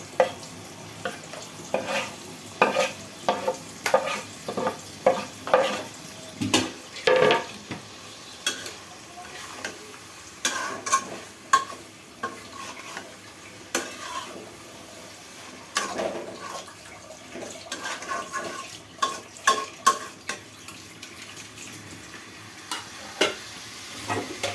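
Eggplant, tomato and onion leaves frying and being stirred into a loitta fish curry, giving steady sizzling broken by a series of scraping stir strokes, fairly quiet and close, with no talking.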